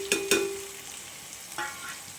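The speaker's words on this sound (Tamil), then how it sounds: "வெங்காயம் ப்ரௌன் கலரில் வதங்கி வந்துச்சு." Finely chopped large onions frying in oil for chicken biryani, a soft steady sizzle broken by a few brief stirring scrapes and clinks near the pan, with no talking.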